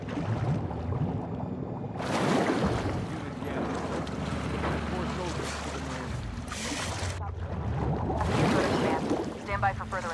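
Boat engine in the video game The Last of Us Part II hums under steady wind and water noise for about ten seconds, while voices talk intermittently over it.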